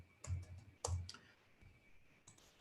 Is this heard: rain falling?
no